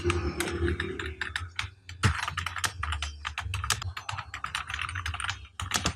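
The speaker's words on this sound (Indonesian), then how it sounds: "Ini saya ketikkan script HTML." HTML code is typed on a computer keyboard in close, quick, irregular runs of key clicks with brief pauses between bursts.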